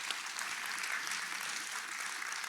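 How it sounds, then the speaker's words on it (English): Steady applause from an audience at a graduation ceremony for program graduates, a dense, even clapping wash held throughout, heard from some distance in a hall. "let's give them another round of applause"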